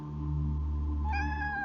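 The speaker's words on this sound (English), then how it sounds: "it's funny, the cat meow." A cat gives a drawn-out meow up close, a steady nasal call that rises in pitch near the end, heard clearly on its own with no talking.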